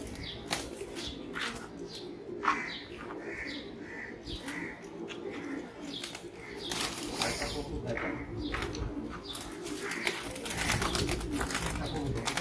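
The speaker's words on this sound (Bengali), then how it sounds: "আমার খুব পছন্দের কবুতর" Silver Bezi pigeons coo softly in a loft, with occasional wing flaps, while people talk steadily over the birds.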